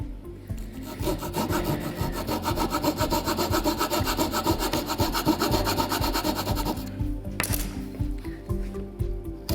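A small hand saw cuts a groove into ukulele wood for an inlay line, with rapid, rhythmic rasping strokes heard close and loud throughout, pausing briefly near the end.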